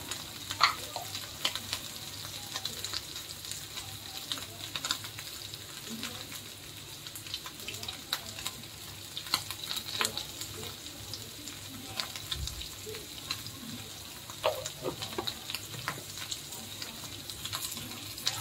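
Small potatoes frying in a pan for a fasting dish, a faint continuous sizzle with intermittent scraping and clinks of stirring throughout.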